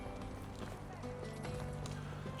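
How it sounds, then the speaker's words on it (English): Horse hooves clop steadily in the medieval village-building game Medieval Dynasty, a continuous rhythmic trot under game ambience with a faint voice in the background. "Let's just take our horse back."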